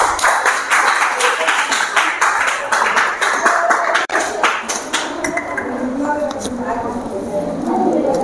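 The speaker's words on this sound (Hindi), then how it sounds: "ताली तो बजाओ भाई।" Students in a classroom clap their hands in a burst of loud, uneven applause that fades to scattered claps, with voices talking over it.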